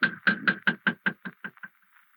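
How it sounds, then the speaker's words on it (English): Knocking on a door in a stage production of the operetta Naughty Marietta: about ten sharp, evenly spaced raps, loud and close at first, then gradually fading and slowing toward the end, with no voices over them. "Yes, we shall knock."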